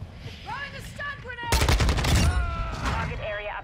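Rapid automatic gunfire in Call of Duty: Modern Warfare II erupts midway as a loud, dense burst of shots that rattles on and fades, with a person talking before and during it.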